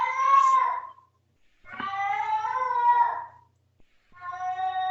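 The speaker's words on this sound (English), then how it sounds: "that's my cat who's on." A pet cat meows loudly and close by in three drawn-out, wavering calls separated by brief pauses, with no talking over them.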